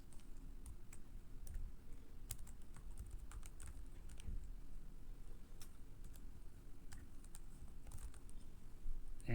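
Steady fast typing on a computer keyboard during a Linux command-line session, dense soft key clicks running continuously over a low room hum, with no talking.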